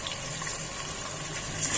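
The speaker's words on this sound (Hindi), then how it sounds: "अब हम इसमें डालेंगे पानी," About a bowlful of water is poured into a pot of chicken curry with potatoes, a brief steady splashing pour heard close up without speech.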